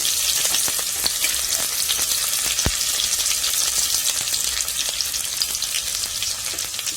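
Onion and green chili fry in hot oil in a kadai for a duck meat dish: a loud, dense, continuous sizzle with crisp pops and a single metallic clank partway through.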